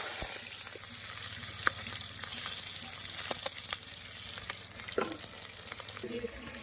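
Ground garlic paste frying in a pan for a South Indian fish curry, with steady loud sizzling and crackling throughout and a few sharp pops and spoon stirs near the end.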